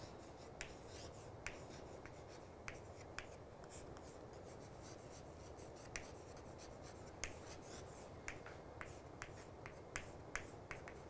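Pen scratches across paper during an optimization lecture: quiet, continuous rubbing strokes punctuated by small sharp taps at irregular intervals, close up with no talking.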